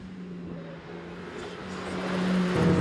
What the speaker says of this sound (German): eine Runde auf der Rennstrecke im neuen AMG GT Black Series, dem stärksten AMG-Serienmodell aller Zeiten